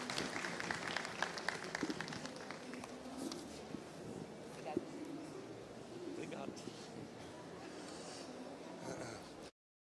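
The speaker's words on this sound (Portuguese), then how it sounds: "Vamos receber o Eugênio Mussac aqui com palmas" An audience applauds to welcome a speaker at an education talk event. The clapping is steady and fairly close, runs for about nine seconds, and ends abruptly. Voices murmur underneath it.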